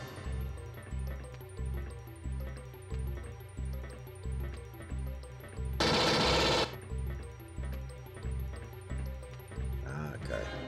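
A smart gun fires in Alien Trilogy in a long, rapid burst of chattering shots lasting under a second. It stands loud against a pulsing, regular game soundtrack that carries on throughout.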